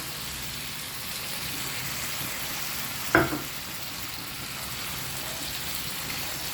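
Catfish and holy basil stir-frying in a pan, giving a steady close sizzle throughout with a single sharp clank of a utensil midway and no talking.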